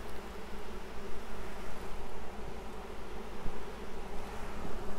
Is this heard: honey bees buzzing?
yes